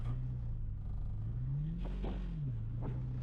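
A car with an unhappy transmission that won't hold gear accelerates, its steady engine drone rising and falling in pitch as it strains, close and continuous with no talking.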